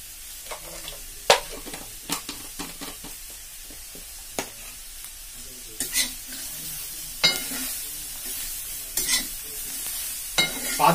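Prawn masala with kokum sautés on a tawa, a low sizzle under repeated sharp spatula scrapes and taps arriving in an irregular rhythm, close and clear with no talking.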